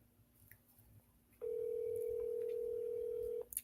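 A telephone call being placed, with a steady, loud electronic tone sounding for about two seconds alone over faint background hiss before cutting off.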